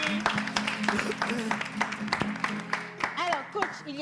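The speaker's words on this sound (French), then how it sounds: "On va accompagner Yannick avec des applaudissements bien nourris" A small audience gives applause for Yannick, sparse, uneven hand claps mixed with voices talking over them at close range.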